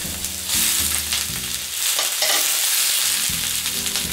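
Beef with bell pepper and mushrooms sautéing on a hot plate, a loud continuous sizzle with hums and swells as the food is moved and stirred.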